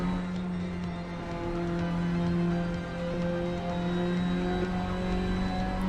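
A racing car engine in Assetto Corsa Evoluzione drones steadily in a sustained, loud, even tone that barely rises or falls, heard alone without talking.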